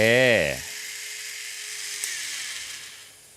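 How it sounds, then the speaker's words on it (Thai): Large-diameter one-way wheels with fluorine-coated steel bearings spin forward, a brief close whirring burst that quickly dies away to a faint hum, with a voice nearby. "โอ้ล้อหมุนไปข้างหน้าดีมากนะ"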